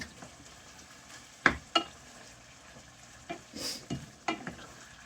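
Pork sausage frying in a skillet gives a soft, faint sizzle while a utensil stirs and scrapes the pan in a few scattered strokes.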